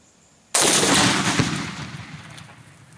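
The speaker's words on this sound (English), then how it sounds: "Let's see if I can hit this damn thing with this gun without blowing anything up." A single loud gunshot fired at a Tannerite target near a tree stump, with a sharp sudden blast followed by a long rolling outdoor echo that fades over about two seconds.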